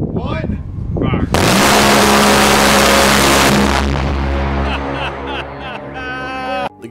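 An A-10 Warthog's GAU-8 Avenger cannon fires about 70 rounds per second in one continuous loud roaring buzz for a couple of seconds, followed by rumbling and a voice.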